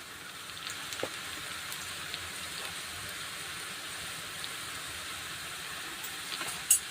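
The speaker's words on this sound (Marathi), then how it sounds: "आता दोन ते तीन मिनटं छान असं तेलामध्ये छान तळून घ्यायचे आहेत" Colocasia leaf fritters sizzle in hot oil, a steady soft crackling hiss with small pops throughout and a brief louder clatter at the end.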